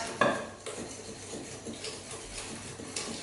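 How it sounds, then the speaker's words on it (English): Brownie batter with eggs being mixed in a bowl, a utensil clinking and scraping against the sides in irregular strokes, close and fairly quiet. "we're going to give it a good mix"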